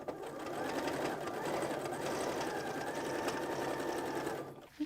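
A sewing machine runs steadily for several seconds, stitching placemat fabric with a continuous close motor whir and rapid needle clatter, stopping abruptly near the end.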